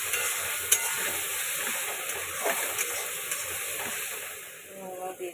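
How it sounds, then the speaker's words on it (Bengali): Coriander and cumin powder fry in oil in a pan for a thin chicken curry, a steady soft sizzle under scraping stirs with a few sharp clinks of the spatula. "ধনের গুঁড়ো, একটু জিরার গুঁড়ো দিয়ে দেবো, দিয়ে দিলাম একসঙ্গে। আর নাড়িয়ে চেপে দেবো,"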